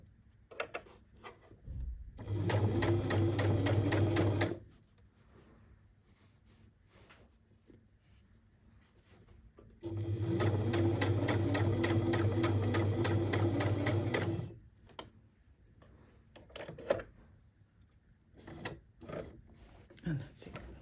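A sewing machine stitching along a waistband edge runs in two steady buzzing bursts of a few seconds each, close and fairly loud, with quieter handling sounds and pauses between them.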